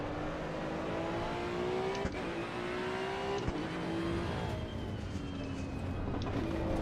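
A Datsun 240Z in Assetto Corsa EVO drones steadily as its engine pitch drops in stepped downshifts under heavy braking, a continuous close engine sound with no voices.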